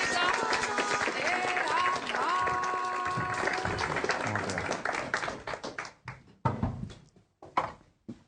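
Audience applause welcoming journalist Horacio Verbitsky onto the stage at a Puerto Cultura talk, loud and sustained at first, then thinning into scattered claps as it dies away.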